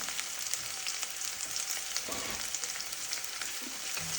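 Garlic and green chili fry in a pan for an easy Kerala-style tomato curry, a dense, continuous close sizzle with faint stirring touches and no talking.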